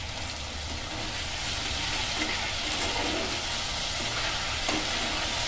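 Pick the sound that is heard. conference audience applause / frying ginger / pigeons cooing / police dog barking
frying ginger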